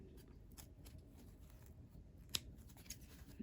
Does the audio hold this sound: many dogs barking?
no